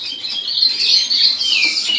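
Two young canary nestlings in the nest give a continuous, loud, high-pitched wavering squeal of begging calls up close, with no other sound.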